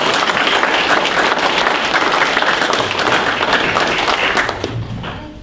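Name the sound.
audience applause for the candidates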